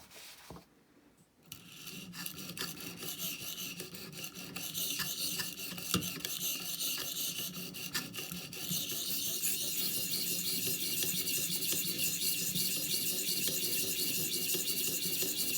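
A Cruwear steel knife is drawn across an oiled 250 grit stone on a ViperSharp sharpening system, making repeated close, gritty rasping strokes after a brief quiet start, continuing steadily with occasional clicks.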